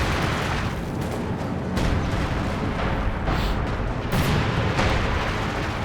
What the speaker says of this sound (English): that intense artillery barrage from the howitzer